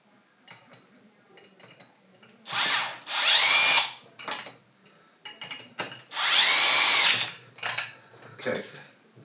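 A power drill drives screws into a racing wheel servo, the eRacing Lab RS Ultimate Gen 2, in two long whirring bursts close by, with short clicks and blips between them.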